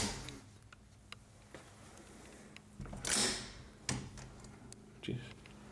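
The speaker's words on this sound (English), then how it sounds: "just making sure that door opens again" A door creaks and bumps open in a quiet, echoing, empty distribution warehouse, with a few sharp knocks and clicks scattered around it.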